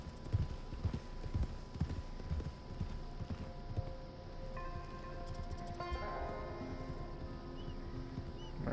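Horse hooves clip-clop at a steady riding pace in the Red Dead Redemption 2 video game, close and fairly loud, with sustained background tones running underneath.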